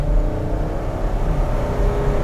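Ford Excursion SUV engine at full throttle, a deep, heavy drone with low rumbling layers, steady and loud from inside the cabin as it accelerates.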